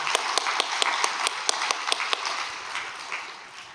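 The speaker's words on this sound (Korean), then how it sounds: "다시 한번 참어머니께 감사의 박수를 올려드리겠습니다." Audience applause of thanks at a Korean religious gathering, a short burst of rhythmic clapping with sharp individual claps that thins out and fades within a few seconds.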